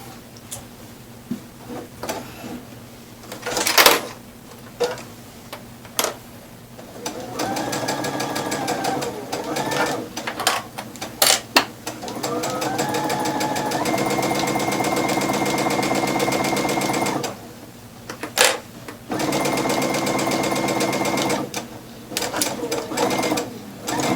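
A sewing machine stitching a jersey knit face mask, running in steady whirring bursts of rapid mechanical ticking broken by short pauses and clicks, loud and close.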